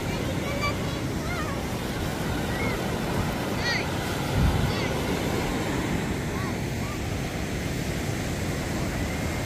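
Large ocean waves surge and wash onto a Philippine barangay shoreline at midday, with a steady, loud roar of surf and gusting wind noise across the microphone, and a brief heavier rush partway through.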